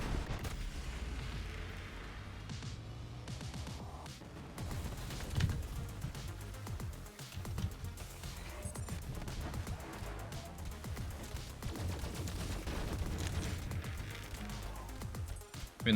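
Gunfire and explosions in a looter-shooter video game form a dense, continuous barrage of rapid shots and booming blasts, a muffled, low-heavy rumble running throughout at moderate loudness.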